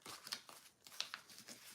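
Scissors trim excess thread while finishing a no-sew traveler notebook journal, a few quick, faint, close snips with light paper rustling between them, no talk.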